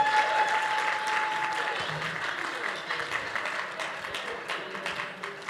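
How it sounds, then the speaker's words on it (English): A crowd at a charity benefit auction applauds after an item sells, a thick burst of clapping that gradually thins into scattered claps, with a voice briefly heard over it. "Give a big round of applause."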